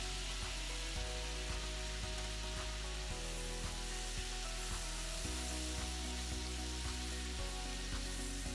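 Strawberries mixed with coconut sugar sizzle in a pan over medium heat, a quiet steady frying crackle with faint rhythmic tapping beneath, and no voices.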